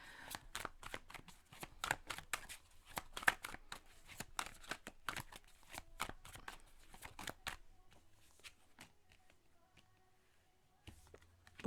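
Tarot cards are shuffled and cut in a quiet room, giving a long run of crisp, quick riffling flicks and slaps. The sound is faint and close, and thins out toward the end.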